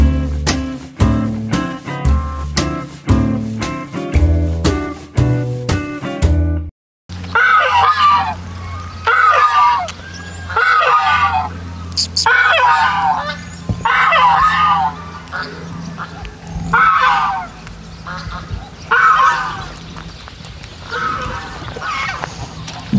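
Ducks and turkeys call loudly at an orchard eco-park, a run of honking and gobbling-like cries repeating over a steady outdoor background, preceded by a stretch of rhythmic music-like tones.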